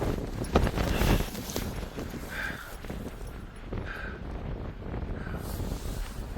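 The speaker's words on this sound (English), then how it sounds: "But you can hear the wind." Gusty wind blows outdoors on a wild, windy day in Llansannan, North Wales. It makes a continuous rumbling roar as it buffets the microphone, with a few soft knocks and no talk.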